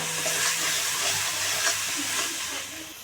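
Ginger garlic paste fries in melted butter with cumin seeds, giving a loud steady sizzle and hiss close by with a light stirring texture throughout.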